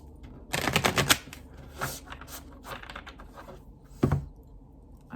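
Tarot cards are riffled and shuffled in a few quick bursts, crisp papery flutters close to the microphone with short pauses and soft taps between them.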